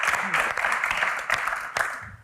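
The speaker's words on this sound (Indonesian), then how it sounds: "Tepuk tangan sekali lagi untuk Kak Mel dan Kak Tyson." An audience claps at a stage Q&A event, a short burst of dense applause that stays fairly even and then tapers off, with a voice faintly mixed in.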